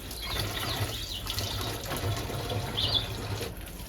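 Water pours steadily into a container at a bush camp, a soft continuous gushing that stays fairly quiet throughout.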